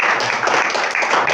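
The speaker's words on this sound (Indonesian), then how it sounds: "Tepuk tangan dong sekali lagi." A church congregation claps loudly at a sermon, a dense wash of many hands close by, sustained and steady throughout.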